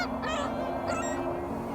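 Ducks or geese honking and calling in a brief burst of overlapping, nasal cries against a steady low rumble, as if heard from inside a moving van on a road trip.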